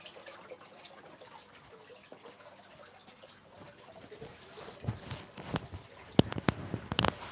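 Aquarium wood decor being rinsed off in water: quiet trickling and splashing that grows busier toward the end, with a few louder sloshes and clatters close by.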